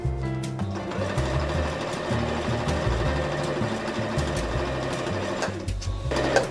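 A sewing machine runs steadily, its rapid mechanical stitching forming a continuous, close rattle with a brief lull near the end.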